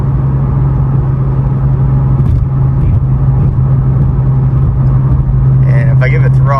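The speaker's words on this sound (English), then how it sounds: "So here's drone inside of the cabin. We're currently at about 70 miles an hour." Inside the cabin of a Nissan 370Z fitted with a DC Sports single-exit exhaust and Y-pipe, a steady, loud low exhaust drone hums at a constant 70 mph cruise, with a voice talking over it near the end.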